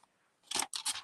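Scissors snip through soft open-weave ribbon in two quick crunchy cuts, close and crisp after a brief quiet pause.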